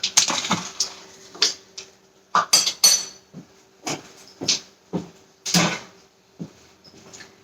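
A metal baking sheet is handled while making stuffed mushrooms, giving a series of distinct clanks, taps and brief rattles at irregular intervals. It is close and clear against quiet kitchen background, with no talking.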